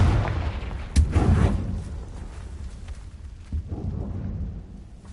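The Confringo blast spell in Hogwarts Legacy goes off with a sharp, loud explosive boom about one second in, then rumbles and fades, with a smaller thud later.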